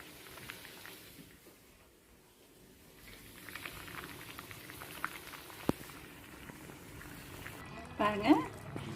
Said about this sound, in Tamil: போட்டு நல்லா மூடி வச்சு ஒரு கொஞ்சம் நேரம் கொதிக்க வைக்கணும்